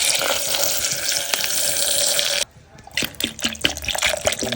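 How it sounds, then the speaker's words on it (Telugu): Water splashes and trickles steadily into a container, then stops briefly before a few drips and small pours follow. "వాటర్ వేసుకుందాం"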